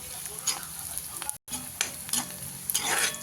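Onions frying in a pan for a chicken dish are stirred, giving a close, steady sizzle punctuated by scraping stirs, with a brief silent break midway.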